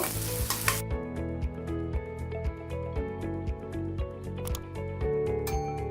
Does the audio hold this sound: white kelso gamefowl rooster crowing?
no